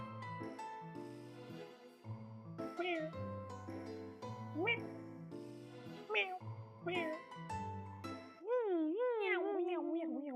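Cats in a video game meow in a string of bright, wavering cries over a steady musical backing. A long, warbling meow closes the sequence.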